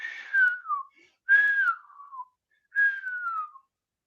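Three separate human whistles imitating a bottle rocket, each a bright falling tone that slides downward and trails off, spaced about a second apart and heard clearly without talk.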